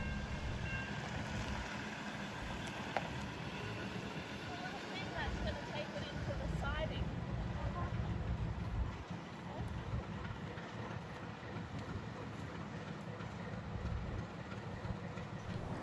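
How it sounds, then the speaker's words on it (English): Locomotive 4836 runs alone along the line to the far end of its train near Robertson, New South Wales, a steady rumbling rail noise with faint wheel clicks and a diesel drone, moderately distant and continuous throughout. "4836 was uncoupled from its train and is now seen making its way to the other end"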